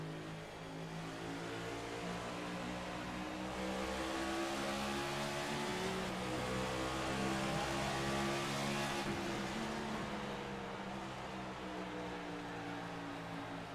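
A stock race car's engine drones from the in-car view during a simulated race at New Hampshire, holding a steady high-revving tone with shifting harmonics and a slight pitch dip midway, loud and continuous.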